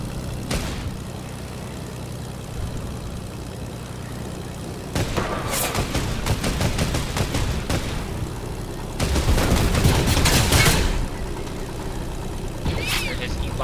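E-blaster rifle fire in Fortnite Battle Royale, heard as a rapid string of sharp energy shots around the middle and a louder, denser burst later, with a low game rumble throughout.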